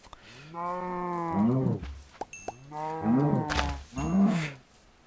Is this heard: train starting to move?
no